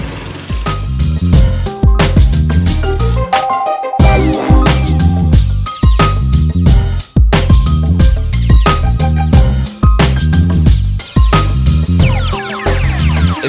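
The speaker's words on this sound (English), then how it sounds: "Then you pull out your cylinder mower." A cylinder mower cuts a lawn of paspalum and grassy weeds at a 15mm height beside hard edging, its reel whirring with steady rhythmic ratcheting clicks that pulse evenly throughout at close range, with no talk over it.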